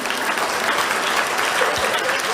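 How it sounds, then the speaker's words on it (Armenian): Audience applause for the international participants at a ceremony with finalists of the Prime Minister's Cup schools swimming tournament, steady and dense clapping from a crowd throughout, fairly loud and close. "Մեր միջազգային մասնակիցներին ծափահարենք եւ ողջունենք"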